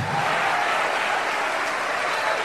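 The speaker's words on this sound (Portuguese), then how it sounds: "Vamos aplaudir muito esse Deus" A congregation at a church service clapping in dense, sustained applause, loud and even throughout with no talk over it.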